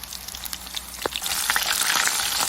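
Salmon fish pieces fry Coimbatore style in shallow oil, giving a steady close sizzle with scattered crackling pops and spits that build louder toward the end, no voices.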